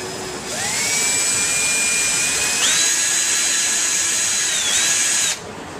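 A power drill whines up to speed and bores a small hole in wood, the motor pitch stepping up midway, then cutting off abruptly after about five seconds.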